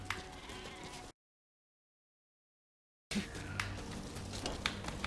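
A sheep bleats in the video game Metal Gear Survive amid ambient game sound, with a sudden stretch of total silence splitting the clip before the noise resumes.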